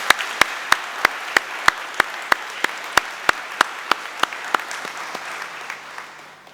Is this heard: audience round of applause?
yes